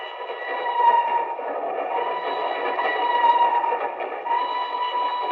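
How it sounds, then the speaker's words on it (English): A train crosses a trestle over a deep mountain gorge with a steady, dense rumble and ringing metallic tones that hold throughout, loud and continuous with no talking. "Two men stand on the swaying observation platform of a train which winds its way across a yawning chasm between two mountains."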